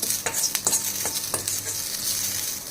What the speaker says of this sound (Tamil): எண்ணெய் விடாமல் வெறும் வாணலியில் வறுத்துப்போம்